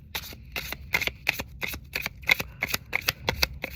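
A deck of oracle cards is riffled and shuffled in quick, crisp bursts, about a dozen close snapping flutters in a steady rhythm.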